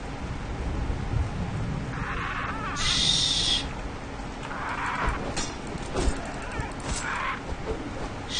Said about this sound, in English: Oh, shut up, bird.